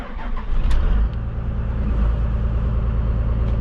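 A truck engine, just started, settles into a steady low idle at about 1200 rpm, a constant close rumble after a brief louder surge at the start.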